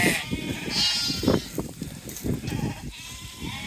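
Damara sheep and lambs bleat repeatedly in a flock outdoors, overlapping calls of varied pitch, some close and loud, others farther off, with faint background noise.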